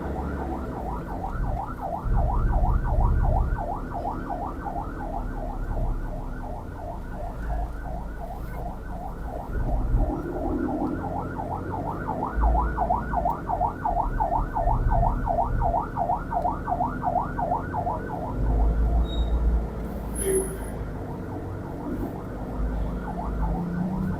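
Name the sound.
ambulance siren in traffic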